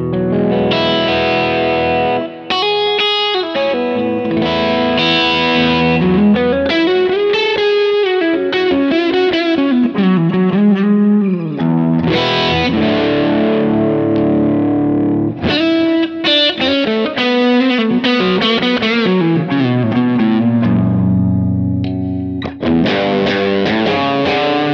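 Distorted rock electric guitar played through a humbucker pickup into a Kemper amp profile, with loud, saturated chords and sustained lead bends, busy phrases broken by short gaps, continuous and upfront without speech.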